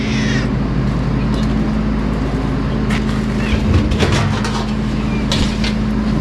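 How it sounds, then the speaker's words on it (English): Barn cats meowing at feeding time on a ranch, several high mewing calls rising through a loud, steady low rumble of machinery or wind, with the cries coming in bursts toward the middle and end. "Feed these dang barn cats."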